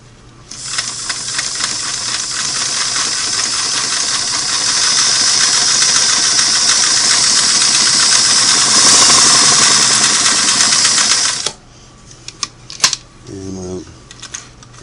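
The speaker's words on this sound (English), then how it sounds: "I'm going to run double needle straight stitch at about the recommended length of between 12 and 15 stitches" A Singer Model 338 sewing machine runs a double needle straight stitch at roughly 12 to 15 stitches per inch, giving a loud, steady, rapid mechanical whir for about eleven seconds before stopping, followed by faint handling clicks.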